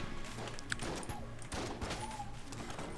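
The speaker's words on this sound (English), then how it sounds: "the ghosts basically have like a Tommy gun kind of thing and they basically shoot all their ammo" Ghosts firing Tommy guns in the video game Enter the Gungeon: quick, faint bursts of rattling automatic fire over game noise, with no talking.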